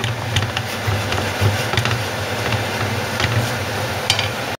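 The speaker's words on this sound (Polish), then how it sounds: "teraz dodajemy nasze dalsze składniki czyli pomidory i koperek dobra i to wszystko ładnie sobie mieszamy" A spoon working through scrambled eggs with tomatoes and dill in a pan, giving soft continuous scraping and stirring with a low sizzle underneath and a few light taps against the pan.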